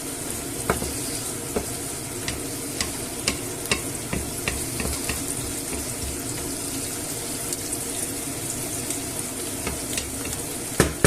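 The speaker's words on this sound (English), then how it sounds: "So we'll give this a mix about." Seafood and noodle stew being stirred in a pot gives a steady bubbling, sizzling wash with scattered soft scrapes and clinks of the spoon, moderately loud and without talk.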